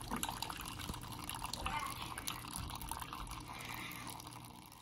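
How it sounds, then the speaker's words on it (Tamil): Beetroot juice for homemade rose syrup strains through a sieve, a steady liquid trickle and drip running continuously at close range with no talk. "இப்போ நம்ம ஜூஸை ஃபில்டர் பண்ணிடலாம்."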